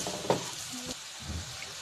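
Mussel fry with chili powder is stirred in a hot pan, with steady close sizzling and a sharp scrape of the spoon early on, followed by softer stirring noises.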